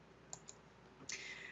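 Two quick, faint computer mouse clicks on a quiet desk while working in SolidWorks CAD software, followed by a louder, longer click-like burst near the end.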